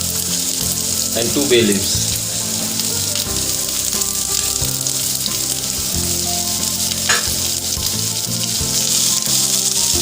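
Green chili, cardamom pods, cloves and bay leaves fry in oil with a loud, continuous close-up sizzle and crackle, while a voice briefly speaks over it.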